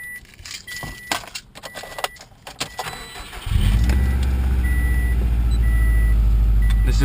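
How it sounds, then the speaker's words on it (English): A 2006 Subaru WRX Limited Edition with a Greddy turbo timer cranks and fires up after a few seconds of key jingling and handling, then settles into a loud, steady, close idle. "I'm just gonna start it up."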